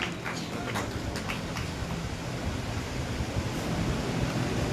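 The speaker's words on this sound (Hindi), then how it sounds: "बहुत बढ़िया, जोरदार ताली बजा दीजिए अपने लिए" Dense, steady audience applause at a Jain devotional discourse on the Bhaktamar hymn, a crowd of many hands clapping continuously and fairly loudly for the whole stretch, with no voices over it.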